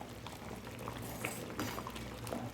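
Urad dal boiling in a pot on a gas stove, a soft continuous bubbling and gurgling, quiet and close, with no talking.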